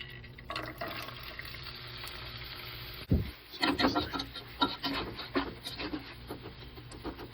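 Quiet kitchen hiss gives way to splashing running water and clattering as food is rinsed in a sink, near and uneven.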